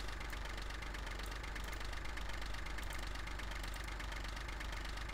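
A tractor engine idles in Farming Simulator 15 after baling, a steady, close, mid-pitched drone with a faint knocking pulse that holds unchanged throughout, with no talking.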